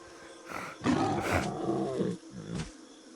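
A black tiger roars in the WildCraft video game, a series of deep, rough roars and growls that swell and break off, loud and close with no voices.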